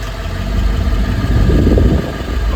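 A car engine idling with the A/C compressor engaged, a steady low rumbling drone up close that swells slightly midway.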